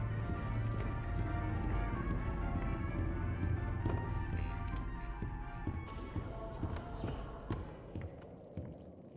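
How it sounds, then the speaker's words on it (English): A radio plays loudly inside the Bendy and the Ink Machine video game, a dense, continuous wash of music that holds steady before thinning slightly toward the end, with no one talking. "Yo, that radio is loud, dude. I can still hear it."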